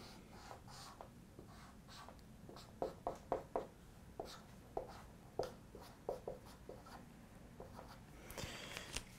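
Pen or marker strokes drawing a chemical structure for an ortho-para substitution example, a series of short scratchy taps and scrapes in quick clusters, fairly faint against a low background hum, no talking.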